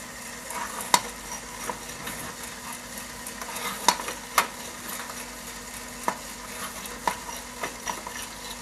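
Coffee beans cracking in an M10 Sniper Pro roaster, sharp scattered pops at irregular intervals over a steady whirring hum, close and distinct.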